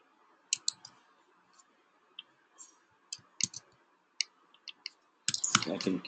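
Computer mouse clicking in a quiet indoor setting, a series of sharp, close clicks spaced irregularly, some in quick pairs, ending in a denser burst of clicks and rustle.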